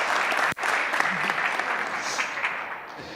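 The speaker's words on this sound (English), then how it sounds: "Let's give a round of applause to all our speakers and moderator." Dense applause from a seated audience at a spiritist symposium Q&A session fills the whole span, loud and continuous, broken only by a brief dip early on.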